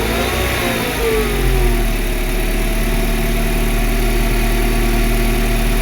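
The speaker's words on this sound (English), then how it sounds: "The idle is a bit too low." A 1995 Mercedes Model 210 engine running extremely rich idles slightly low, a steady close mechanical hum with a brief rise in revs early on before settling back.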